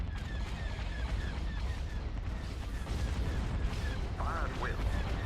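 Starship turbolaser batteries fire in the Star Wars space strategy game Thrawn's Revenge, a dense, continuous barrage of rumbling booms with repeated zapping bolts, steady and loud throughout, with a brief rising chirp near the end.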